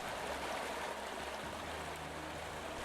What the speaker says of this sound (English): With the loud water in the background.